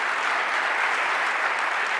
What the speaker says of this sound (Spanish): Vamos a dar otro aplauso a Julián.